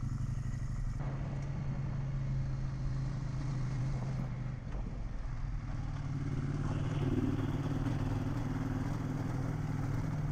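A KTM 890 motorcycle engine drones steadily while riding up a mountain pass in Portugal, with a continuous loud hum and a slight shift in pitch partway through, no talking.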